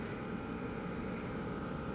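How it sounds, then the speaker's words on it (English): Steady low broadband hum of an air conditioner running throughout, constant and unvarying, with no other sounds. "Sorry about the AC noise."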